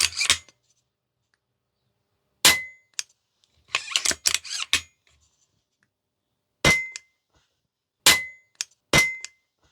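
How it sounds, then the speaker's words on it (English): Air rifle action firing with a Delrin-tipped hammer, shown before and after the change: a run of sharp, close metallic clangs and snaps, some single and some in quick clusters, with silence between them. "has the Delrin tipped hammer made any difference to the action noise of the rifle?"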